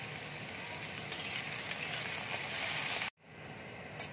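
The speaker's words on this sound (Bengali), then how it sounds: "ক্যাপসিকামটা আমি হালকা করে ভেজে নেব।" Capsicum frying lightly in oil in a pan gives a soft, steady sizzle that cuts off abruptly near the end, then resumes faintly.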